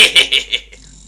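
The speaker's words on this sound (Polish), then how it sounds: "W ogóle lubię ten odgłos chrapania fasada," Fassad snoring in the Mother 3 video game: a quick run of three or four bright, buzzy game-sound pulses in an even rhythm, loud and close, then fading into quiet.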